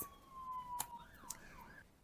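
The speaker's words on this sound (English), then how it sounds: "There's a police car, I'm going to let it pass." A police car siren wails past outdoors, its wavering tone sweeping up and down at moderate distance for a couple of seconds, with faint traffic noise underneath.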